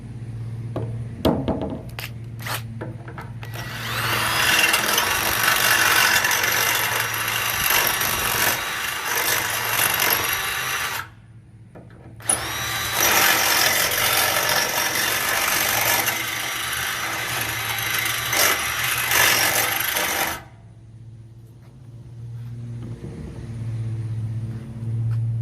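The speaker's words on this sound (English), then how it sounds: "we'll just waller it out a little bit with the drill" A power drill with a 3/8 inch bit widens a hole, running in two long continuous whirring bursts with a short pause between, loud and close over a low steady hum.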